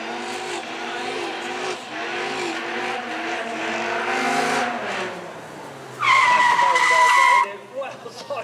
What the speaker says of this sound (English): It is our 8 litre V10.